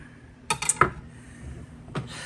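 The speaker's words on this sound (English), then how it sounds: "I believe this is elephant garlic, I think. And I'm just chopping it up into big pieces." Elephant garlic being chopped into big pieces on a cutting board: a quick cluster of two or three sharp knife knocks, then a single knock a moment later, close and fairly quiet, with no talking.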